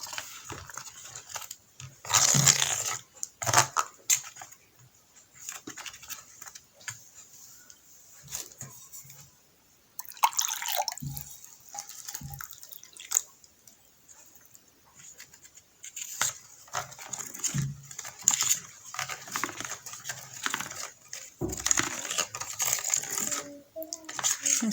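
Burger-pizza batter being stirred by hand after more water is added, giving steady scraping and tapping of a utensil against the bowl with irregular louder strokes; close and continuous with no talk.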